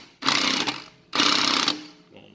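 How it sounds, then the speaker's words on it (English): Cordless drill or impact driver spinning a locking lug nut tight on an Infiniti QX60 wheel during a flat tire change: two loud, sustained whirring bursts of about half a second each, separated by a short pause, close up. "when you're tightening this with a drill or impact like this, you're going to want to push in on the locking lug nut key onto the locking lug nut"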